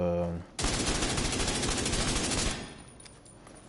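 Achilles rifle gunfire in The Division 2 video game, a single loud sustained burst of roughly two seconds that trails into a fading echo, with a brief voice just before it.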